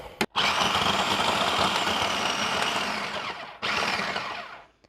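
Food processor pulsing flour, butter and salt for quiche dough: a loud, steady whirring motor roar in two bursts, the first very short, then a long run with a brief stop and restart.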